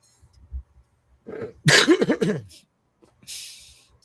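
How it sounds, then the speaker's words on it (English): A single harsh cough bursts out close by, a couple of rough hacks in quick succession, followed by a faint breath or rustle. "Hold on, let me cough real quick."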